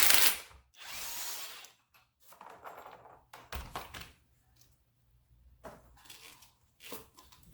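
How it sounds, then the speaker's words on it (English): A power tool fitted with a 17mm socket spins off the strut top nut on a third-generation Toyota Tacoma, giving short, close bursts of whirring and ratcheting separated by quiet gaps, with a few metallic taps between them. "Using a 17mm socket, remove the top nut."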